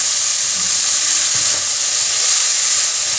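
Cauliflower frying in hot oil gives off a loud, steady sizzle and hiss that holds evenly throughout, close up, with no talk.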